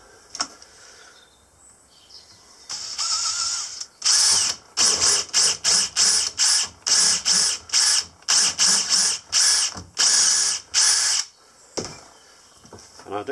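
A power drill spins a tool to square off the end of an acrylic pen blank held in a vise, giving a high whine in a quick series of short, loud bursts with brief pauses between them.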